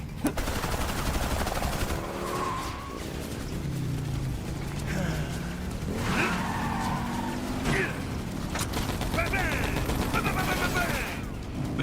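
Gunfire from the Final Fantasy VII Advent Children film, heavy bullets like .50 caliber, crackles in bursts through a dense action soundtrack with engine and skidding noise, while a voice talks over the scene.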